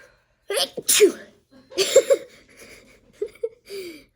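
Several sneezes in quick succession, loud and close, with short gaps between bursts and a softer one trailing at the end.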